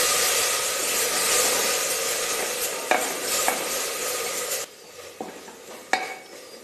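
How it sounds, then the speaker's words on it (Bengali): Vegetables and spices with a splash of water are stirred and fried in a pan: a steady loud sizzle with scraping spoon strokes, a few sharp clacks against the pan, and the sizzle dropping suddenly near the end, leaving quieter scrapes. "এবার আমি দু চামচ মতন জল দিয়ে সবজি আর মশলাটাকে ভালোভাবে কষিয়ে নেব"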